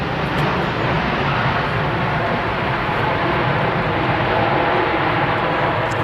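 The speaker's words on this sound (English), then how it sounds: "A Ryanair 737 MAX 8 arrived from Malta." A Ryanair Boeing 737 MAX 8 arriving at Manchester Airport, heard as a steady, moderately loud broadband engine rumble with no voices.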